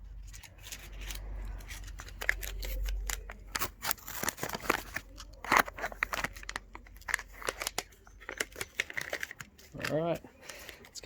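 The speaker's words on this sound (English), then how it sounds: "let's pop it inside that little supplied bag, one-handed, which isn't easy" A car key fob is slipped one-handed into a small supplied plastic bag, giving busy crinkling, rustling and tapping handling noises up close, with occasional speech.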